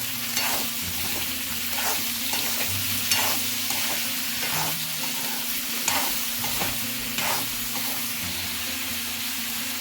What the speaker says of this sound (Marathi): आता त्याच्यात मी सुरण टाकते आणि तो परतवून घेते.